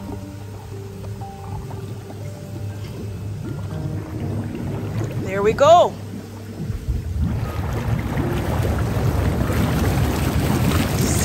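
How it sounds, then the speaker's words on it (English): Backyard hot tub switched on, its jets starting up partway through and then a steady rushing, bubbling water churn that continues to the end; a voice speaks briefly just before the jets start. "I'm sure you can hear the bubbles, and you see the jets pushing out water until the entire tub."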